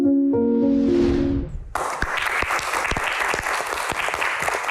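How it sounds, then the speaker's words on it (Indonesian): A crowd at a public Q&A event applauds the guest stars, with loud, dense clapping that follows a brief sustained musical chord and carries on steadily to the end. "Lebih meriah lagi kita berikan tepuk tangan untuk bintang tamu kita."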